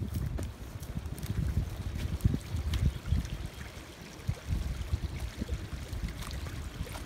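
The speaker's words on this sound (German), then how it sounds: "So ist hier ein Fluss, der nicht überquert werden kann." A river flows beside a hiking route out of Leipzig, a steady low rushing of water with outdoor wind buffeting the microphone, heard close with no talking.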